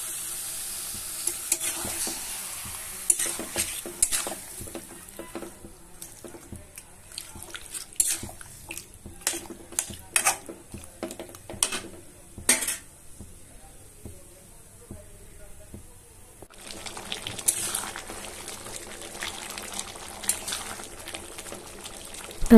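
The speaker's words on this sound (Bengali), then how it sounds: "আলুটা দিয়ে দিয়েছি, দিয়ে আবার ভালো করে কষাচ্ছি" Chicken and potatoes sizzle in a pan while being stir-fried for a dhaba-style chicken curry. Steady frying crackle runs under frequent spatula scrapes and knocks, close up, with a quieter stretch partway through.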